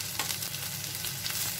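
Onion and tomato sautéing in a pan for a broad bean kuzhambu, a steady close sizzle with faint stirring scrapes and no talking.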